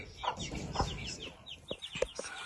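A broody hen clucks softly in short, irregular bursts, nearby but quiet, outdoors, with faint chirps of chicks in the background.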